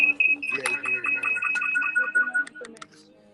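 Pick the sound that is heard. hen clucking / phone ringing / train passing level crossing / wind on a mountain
phone ringing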